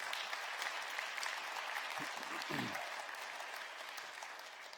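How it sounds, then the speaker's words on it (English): A church congregation gives an extra round of applause for the organisers and children at a December service, a sustained moderate clapping with a few louder bumps midway, then tapering slightly. "Would you give them and the kids one more round of applause, please?"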